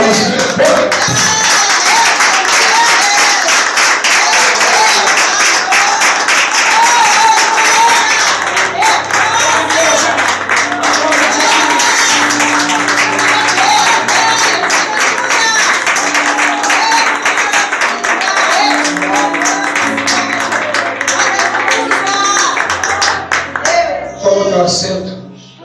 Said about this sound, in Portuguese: Receba agora os aplausos.